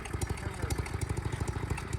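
Sears GT18 garden tractor with a new transaxle running steadily, a loud close engine chug with rhythmic clattering pulses and a grinding transmission whine throughout.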